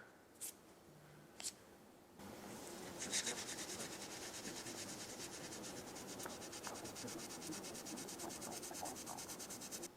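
Steel wool balled up and rubbed back and forth over scratches on a finished knife blade gives a close, continuous gritty scrubbing hiss that starts after a couple of faint taps and keeps an even pace.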